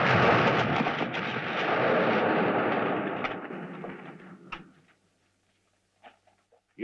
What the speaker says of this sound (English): This old mine's about to explode.